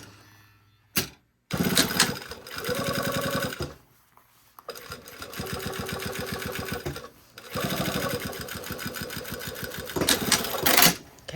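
A sewing machine runs a quilting stitch on a Style Arc Ziggi jacket. Several close, loud bursts of rapid rhythmic needle chatter with a motor whir are separated by short pauses and brief handling clicks.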